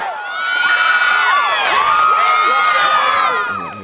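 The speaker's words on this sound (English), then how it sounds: "you just heard the crowd on the video go" A football crowd cheers and shouts loudly, with many high excited voices including children, swelling and holding steady for several seconds before easing off.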